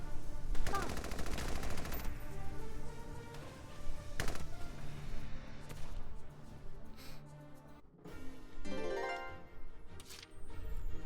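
Bursts of rapid gunshots and machine-gun fire in Valkyria Chronicles 4, sharp repeated reports in clusters at moderate loudness, mixed with game sounds and occasional talk.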